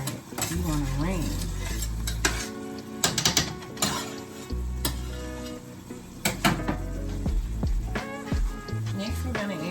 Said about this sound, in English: Make sure it sautés in throughout the veggies, the onions and the garlic.